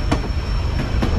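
On the White Pass line after the 2021 landslide, a train runs along the rails with a loud, continuous rumble broken by a few sharp clacks from the wheels.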